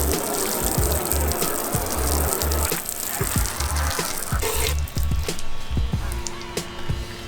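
Water streams and drips off a freshly coated car, a steady wet gushing and splashing with scattered droplet ticks, fairly close and continuous throughout.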